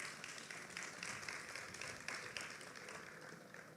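Audience applause at a political party's manifesto meeting, steady clapping from a crowd that swells and fades over a few seconds, fairly distant and even, with no talk over it.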